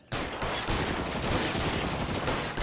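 Dense, continuous gunfire rages through a shootout in the video game L.A. Noire, a loud unbroken barrage of rapid shots that starts abruptly and carries on without pause.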